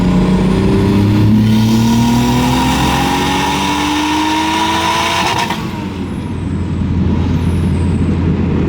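A turbocharged car engine pulls hard in fourth gear, its roar rising steadily in pitch for several seconds before a sharp lift-off and a rush of turbo and exhaust noise, very loud and close.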